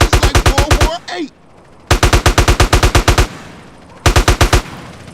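Automatic gunfire in a GTA San Andreas shootout: three loud, close bursts of rapid shots with short gaps between them, and a brief fainter noise in the first pause.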